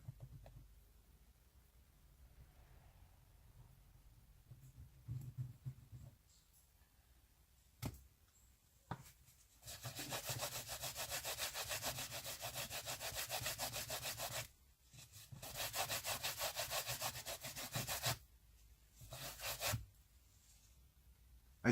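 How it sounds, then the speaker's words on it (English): A Fortivo leather repair kit crayon rubbed back and forth on leather, giving dry scraping strokes in long sustained bursts with short pauses between them, close and fairly loud with no talking. "Kind of like rubbing a crayon on here."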